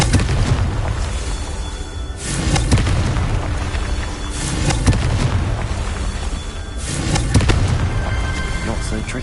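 Confringo blasting spell from Hogwarts Legacy erupts in a few heavy, booming explosions spaced a couple of seconds apart, set over a constant loud rumble of game noise.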